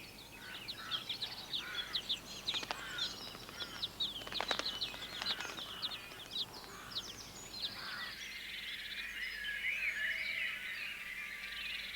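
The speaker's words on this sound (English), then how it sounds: "The young missel thrushes are constantly clamouring for food." Young missel thrushes in a nest give high, thin, insistent chirps in irregular bursts, clamouring for food, fairly faint against a quiet outdoor background, with occasional rustling and no speech.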